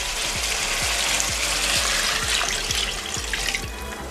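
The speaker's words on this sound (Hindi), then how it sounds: "पॉइंट पे आके हम इसमें पानी ऐड कर लेंगे।" Water pours steadily into mutton frying in a pot, a continuous close splashing rush over the sizzle with a faint repeating tick underneath.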